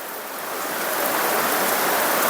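Heavy rain pours down around a house, a dense, loud, steady hiss of drops on surfaces that swells slightly and continues without pause.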